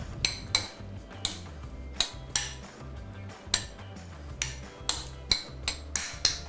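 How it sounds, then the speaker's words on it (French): A metal utensil scraping and knocking against an oven dish while mixing ingredients coated in a little oil, sharp clinks repeating roughly every half second over a soft low rumble, close and alone. "Mélanger."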